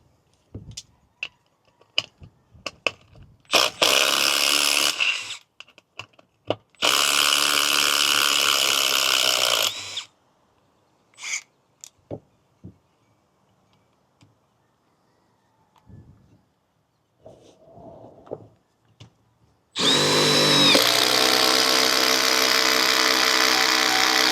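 Several bursts from a Milwaukee impact driver driving screws: loud, close whirring runs lasting a few seconds each, separated by quiet gaps with small clicks and handling noises, ending in one more long sustained burst.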